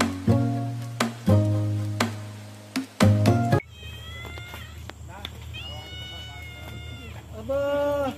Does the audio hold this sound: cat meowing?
yes